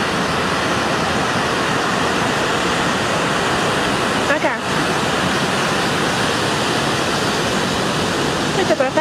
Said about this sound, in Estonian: See tagapool on võimsad lained.